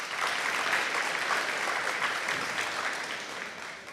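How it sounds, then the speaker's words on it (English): A crowd at a school fall athletics awards night applauds all-region players: dense, steady clapping that fills the whole stretch without a break and eases slightly at the very end. "Let's give our first team all-region players a round of applause."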